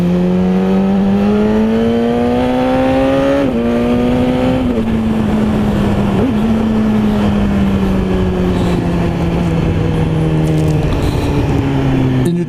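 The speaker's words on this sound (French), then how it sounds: "La moto est équipée forcément de shifter, donc on passe comme sur la H2 les vitesses à la volée." A BMW S1000RR HP4 motorcycle accelerates hard, its loud engine whine climbing in pitch and dropping sharply at each quickshifter gear change, several rapid upshifts in a row with nothing else heard.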